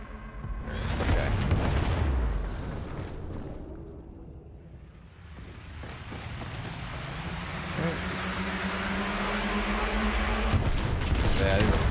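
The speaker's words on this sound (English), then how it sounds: "these are proton cannons" Proton cannons fire in the Star Wars Battlefront 2 game, giving heavy booming blasts in bursts over a steady low rumble, with talk running underneath.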